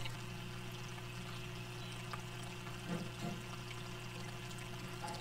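Water steadily drains and pours in an aquaponics flood and drain grow bed, a continuous low rushing trickle over a constant pump hum, with no talking.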